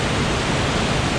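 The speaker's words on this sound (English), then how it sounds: "We thought we'd have a little look at the waterfall." Waterfall at Cwmorthin in North Wales, a steady close roar of falling water filling the sound with dense, unbroken rushing noise and no voices.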